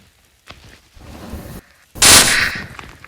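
A firecracker called an atomovka goes off with one loud, sharp blast about two seconds in, ringing briefly before fading, after some quieter handling noises nearby.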